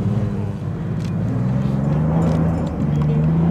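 A rear-wheel-drive historic Porsche 911 rally car corners on a rally stage, its engine revving and rising in pitch close by, with a voice talking over it.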